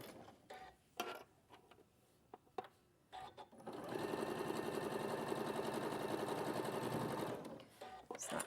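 A sewing machine chain pieces fabric. It runs steadily for about three seconds, a loud, even mechanical whir, after scattered clicks and handling noises, with no talking.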